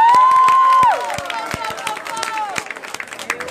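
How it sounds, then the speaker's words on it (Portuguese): An audience at an evening poetry open mic at Flip 2019 in Brazil applauds and cheers, with a held shout at the start giving way to scattered clapping and crowd noise that gradually thins. "uma salva de palmas, gente."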